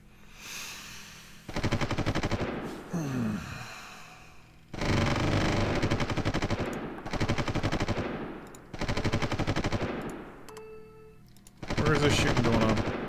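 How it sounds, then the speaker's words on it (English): Aircraft gunfire in the strategy game Supreme Ruler Ultimate, loud sustained machine-gun bursts repeating in several long volleys separated by short gaps, with a voice speaking briefly between them. "Where is this shooting going on?"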